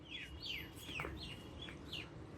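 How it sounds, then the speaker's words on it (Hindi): Birds chirp in a leafy green lane in Delhi, a run of repeated sharp descending calls about every half second over steady outdoor background noise. "चिड़ियों की अगर आपको आवाज़ आ रही हो"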